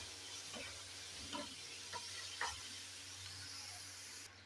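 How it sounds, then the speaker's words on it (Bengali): Chopped capsicum and onion frying lightly in a pan for chili paneer: a faint, steady sizzle broken by a few soft stirring clicks, with no one speaking. "দিয়ে দেবো ক্যাপসিকাম আর পেঁয়াজ কুচি। এটাকে অল্প ভেজে নেবো।"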